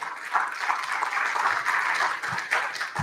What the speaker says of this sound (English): Give yourselves another big round of applause for coming out here tonight.